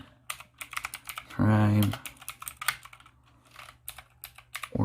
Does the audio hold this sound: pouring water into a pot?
no